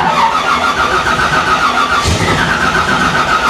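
A 1971 Chevrolet Nova, previously out of gas, catches and fires, its engine turning over and running steadily throughout with a loud, continuous mid-pitched roar and a brief surge near the middle.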